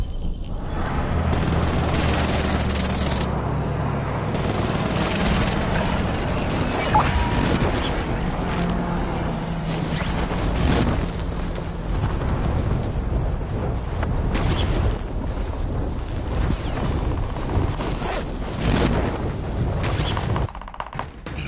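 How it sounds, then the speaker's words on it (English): Nebula 5 bombers detonate in a Warzone battle video game, with a dense, continuous barrage of loud booms and crackling gunfire-like blasts rolling on for the whole stretch, no voices audible. "Nebula 5 bombers detonated in the area."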